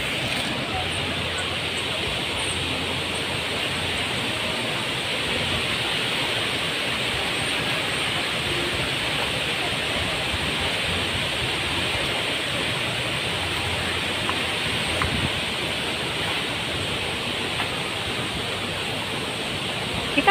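Tagnote Falls sends out a steady, dense roar of falling water, loud and continuous with no breaks, filling the whole stretch without any clear voices on top.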